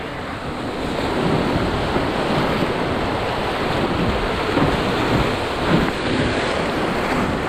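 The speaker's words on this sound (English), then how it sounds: "That was rapid number 50, class 3, ran basically straight down in the middle." Class 3 whitewater rapids on a canoe run, a loud continuous roar of rushing, churning water with wind buffeting the microphone, steady throughout.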